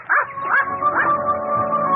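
A dog gives a few short, yelping barks in quick succession, fairly close, followed by a sustained whining tone.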